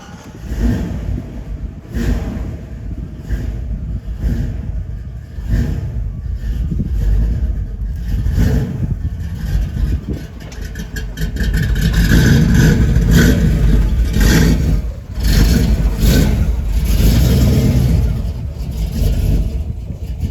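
A Ford F-150 pickup truck with a swapped-in T5 manual transmission revs and pulls away, its engine rumble swelling louder and steadier as it accelerates, with no talking.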